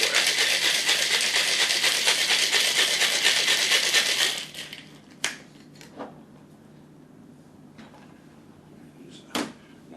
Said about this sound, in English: and then we're going to add ice. Shake.